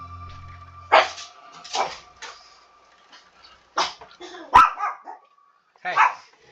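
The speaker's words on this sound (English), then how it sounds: "No barking." A dog barks in short separate bursts, several barks spaced a second or two apart, fairly close and clear over a quiet background with a faint steady hum.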